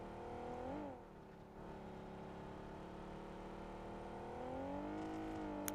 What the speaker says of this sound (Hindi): देख रहे हो एक टायर पे भी गाड़ी चल रही है।